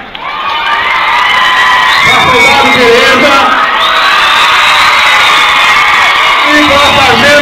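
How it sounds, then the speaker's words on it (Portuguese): A large crowd of children at a Brigada Militar PROERD graduation ceremony in Caçapava do Sul applauds and cheers loudly and continuously, shouting and whooping, while an amplified voice speaks over the noise. "Uma salva de palmas, Sargento Almeida."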